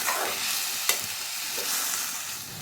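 Four large tomatoes, cut lengthwise for tomato kurma, sizzle and fry in a pan with a steady bright crackle and a brief stirring scrape partway through.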